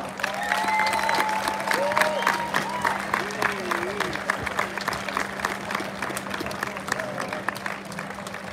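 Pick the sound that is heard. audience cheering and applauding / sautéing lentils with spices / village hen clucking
audience cheering and applauding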